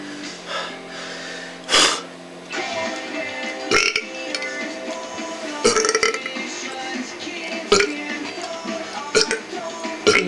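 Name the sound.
repeated burping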